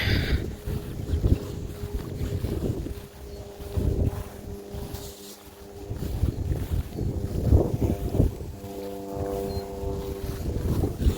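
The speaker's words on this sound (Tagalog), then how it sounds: "Narinig niyo po yung hangin." Spring wind gusts in Canada buffet the microphone in surges, rising and easing outdoors, with a low engine-like drone underneath and no talking.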